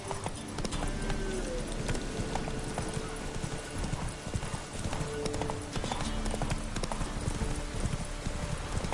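Horse hooves clip-clop in a steady, continuous rhythm while a horse is ridden in a video game, moderately loud with faint ambient background underneath.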